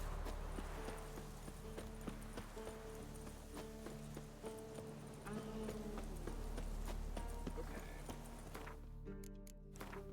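Roach, the horse in The Witcher 3, clip-clops along in a steady rhythmic hoof beat, close and continuous under game ambience and a low music bed.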